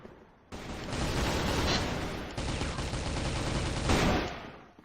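Dense rapid gunfire from the online shooter Crossfire, sustained automatic bursts close and loud across nearly five seconds, with a brief break midway before the shooting resumes.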